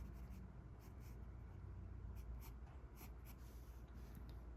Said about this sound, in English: I'm going to sketch in where the flippers are